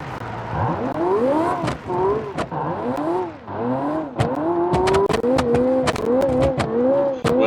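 Race car engine in a driving video game revving hard and continuously, pitch climbing and dropping through repeated gear shifts over a steady loud drone, with brief sharp clicks.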